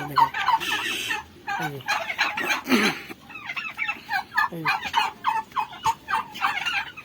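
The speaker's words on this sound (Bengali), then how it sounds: "এগুলো আমার রাতা মুরগি।" Chickens in a poultry farm's night roosting area call over and over, a busy overlapping chorus of clucks and squawks close by, with someone briefly speaking.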